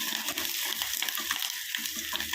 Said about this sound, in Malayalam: എല്ലാം കൂടെ നമുക്ക് ഒന്ന് വഴറ്റി എടുക്കാം